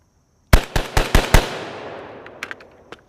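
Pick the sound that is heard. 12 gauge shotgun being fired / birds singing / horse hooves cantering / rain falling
12 gauge shotgun being fired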